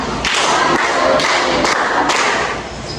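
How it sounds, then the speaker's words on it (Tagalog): Five claps from a class in a Filipino classroom for the first group, sharp rhythmic claps spaced about half a second apart over continuous room noise. "bigyan ng limang palakpak ang unang pangkat"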